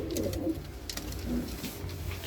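Soft, low cooing of pigeons close by in a pigeon shop, a few throaty rolling calls overlapping with faint rustling.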